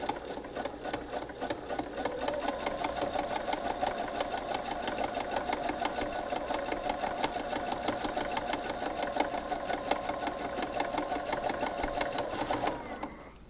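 A sewing machine stitches steadily around the edge of a fitted pocket, running close and alone as one continuous, rattling whir for about twelve seconds before it stops.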